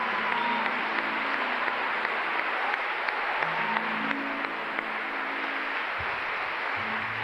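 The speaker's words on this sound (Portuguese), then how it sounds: "Aplauda para valer." A church congregation applauds at Mass in a sustained, even wash of clapping with a faint tonal murmur underneath that could be voices or music.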